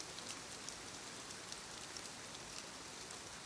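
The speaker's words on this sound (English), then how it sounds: "The rain became softer again. There was space between its touches on the roof." Soft rain falling on a greenhouse roof, a steady quiet hiss of fine drops with tiny scattered taps, gentle, even and alone.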